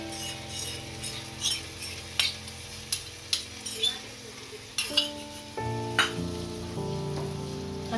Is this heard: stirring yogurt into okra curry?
yes